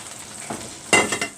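Okra dropped into bubbling tomato sauce for an Egyptian okra and meat stew, giving a short faint sizzle and then a louder burst of frying hiss with a couple of stirring scrapes, no talking.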